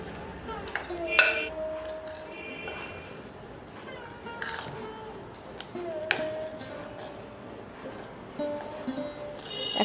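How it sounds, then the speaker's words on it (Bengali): Dry and wet chocolate cake ingredients being mixed together in a bowl, with soft scraping and occasional clinks of utensil against the bowl, quiet and close, alongside some talk. "এবার খুব হালকা হাতে ড্রাই আর ওয়েট ইনগ্রিডিয়েন্টসগুলোকে একসাথে মিশিয়ে নেব"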